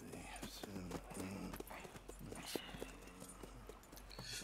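Horse hooves clip-clop at a slow walk in Red Dead Redemption 2, a steady stream of soft, close thuds beneath game ambience with a faint undercurrent of background sound.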